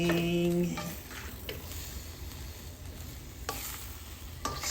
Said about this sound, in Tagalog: stir fry na toge with mushroom, pork, and then tofu